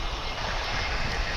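American Airlines jet passing at Dallas/Fort Worth International Airport, a steady, loud broadband engine roar filling the whole brief moment with no break.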